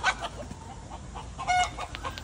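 Silkie chickens and a rooster cluck and squawk in short, irregular bursts nearby, several birds calling over one another.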